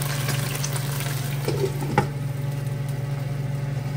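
Chicken pieces seasoned with black pepper and salt sear in a pan for chicken caldereta, giving a steady close sizzle over a low hum, with one brief clink midway.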